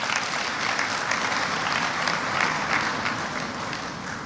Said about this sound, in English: Professor Wright deserves a round of applause